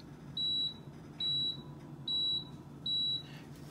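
A Power XL oven sounds four short, evenly spaced electronic beeps as its buttons are pressed, set against a quiet kitchen background.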